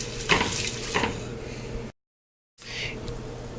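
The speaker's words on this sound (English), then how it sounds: "you're going to add 1 cup of white wine. And you're going to stir this until it's absorbed." Saffron clam risotto stirred in a pan after a cup of white wine goes in, a close scraping, bubbling stir with a soft sizzle, broken by a short gap of silence before the stirring resumes.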